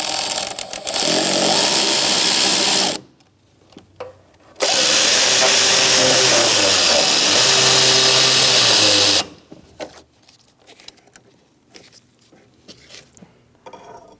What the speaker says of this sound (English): now we're going to tighten up this hose clamp in the front